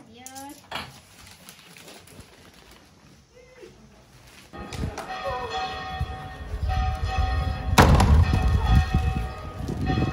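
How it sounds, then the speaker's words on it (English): A bell rings at a convent cookie shop in Madrid after a purchase, with clanging strikes and thumps rising over background speech and room noise, loudest in the second half. "That's why they're ringing the bell."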